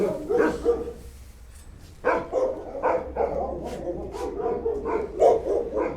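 Munia, a female shelter dog, gives several short yips and whimpery barks in uneven bursts near by, with a voice talking over and between them.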